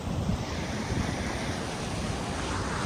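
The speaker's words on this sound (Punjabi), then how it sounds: "ਜਿਹੜੀ ਨਦੀ ਚੱਲ ਰਹੀ ਹੈ ਪਿੱਛੇ" A mountain river in Kullu rushes steadily in a continuous loud roar of churning water, mixed with wind buffeting the microphone, with no voices over it.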